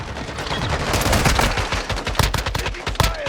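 Rapid bursts of automatic gunfire from a Call of Duty Modern Warfare II Warzone match, loud and dense, with sharp cracks standing out throughout the firefight.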